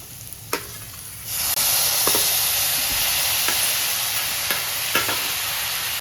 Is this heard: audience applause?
no